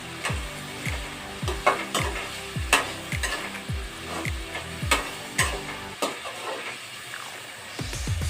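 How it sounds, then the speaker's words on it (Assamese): Boiled potatoes sizzling with spices in a pan with regular rhythmic scraping strokes of a spatula, about two per second, then a brief quieter stretch near the end. "একেলগে মছলাৰ সৈতে মই ভাজি কৰি দিম।"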